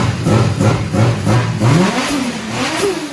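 A turbocharged car engine with a retuned exhaust cam gear and aftermarket exhaust revs loudly and close up in quick, repeated throttle blips, pitch rising and falling with each jab and climbing higher toward the end.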